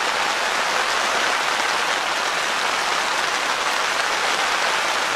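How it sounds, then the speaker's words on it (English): Steady rain patters densely on a tent, a loud, even, close drumming hiss with no pauses and no voices. "What's that sound of that rain?"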